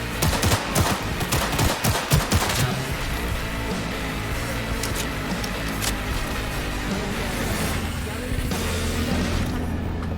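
Gunfight with police in the video game Cyberpunk: dense bursts of rapid gunfire and shots crackle over the first few seconds, then scattered single shots and clatter continue under a steady background of combat noise.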